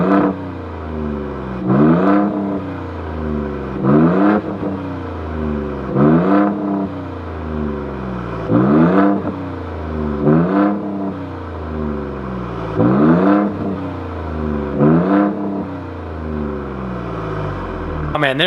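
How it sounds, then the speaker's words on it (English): A 2020 Ford Raptor engine fitted with a Corsa X pipe exhaust revs repeatedly in loud, close bursts, each throttle blip rising and falling in a steady rhythm over a deep idle rumble. "let's get some more revving clips"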